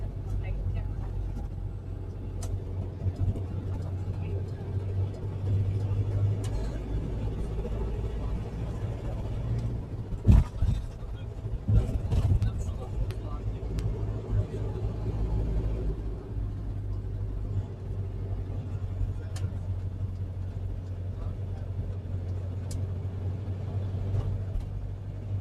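A bus riding through Dubai rumbles steadily with a low engine drone, a few louder knocks around the middle, and people talking over the ride.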